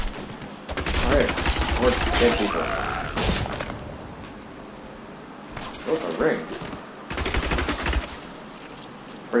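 Repeated clusters of rapid impact and shooting effects in the Diablo 3 video game, several loud bursts separated by quieter gaps, with a person talking throughout.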